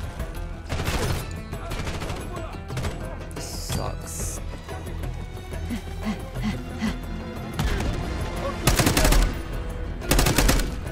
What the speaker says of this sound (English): Dude, I shot you in the face! This gun is abominable.